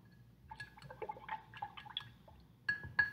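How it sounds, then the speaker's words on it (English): A paintbrush is rinsed in water during a handprint peacock painting lesson, giving a run of soft splashing and dripping sounds that end in two louder sloshes, close by and quiet, with no talking. "we can rinse our brush"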